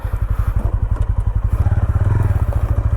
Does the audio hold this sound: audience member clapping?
no